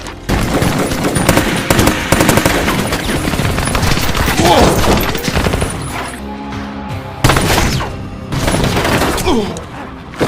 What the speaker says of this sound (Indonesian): Sehingga tak berselang lama pun ia langsung menembaki mereka tanpa ampun.